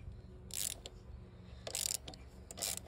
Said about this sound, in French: On vient défaire les bornes de la batterie.